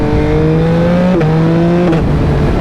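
A 2021 Yamaha MT-09 motorcycle, ridden with a flashed ECU, accelerates hard up close. Its steady high engine note climbs through the revs and breaks briefly at two quick gear changes, with wind roar underneath and no talking.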